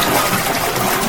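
A small tap runs with a loud, close, steady gush of water, rushing continuously and alone.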